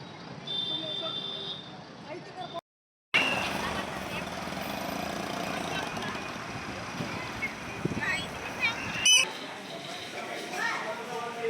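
A KSRTC bus bound for Bhatkal rumbles at a busy bus stand, its engine a steady, moderately loud drone under the surrounding crowd noise.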